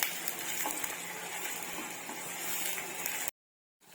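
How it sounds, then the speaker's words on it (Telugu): Onions fry in a pan for chicken curry with a steady, close sizzle and occasional stirring scrapes, then cut off briefly before resuming. "ఇప్పుడు ఈ ఆనియన్ ఉంది కదా, ఇది బాగా బ్రౌన్ అంటే కొంచెం రెడ్ కలర్ వచ్చేంత వరకు వేగనివ్వాలి"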